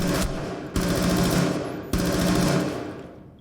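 Rapid automatic fire from an MP5 submachine gun in a first-person shooter match, delivered in three loud sustained bursts with brief breaks between, close and dominant with no talk over it.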